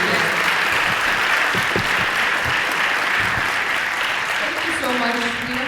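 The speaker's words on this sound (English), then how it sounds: "How about a huge round of applause for our panelists?" Steady, loud applause from an audience at an expert panel event, a sustained wash of clapping hands lasting several seconds with a voice speaking over it near the end.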